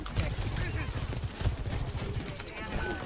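Rapid gunfire in Overwatch 2, a dense crackle of repeated shots running through the whole moment amid busy game effects, with talk over it.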